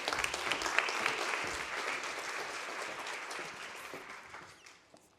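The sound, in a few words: audience applause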